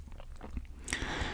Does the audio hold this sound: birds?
no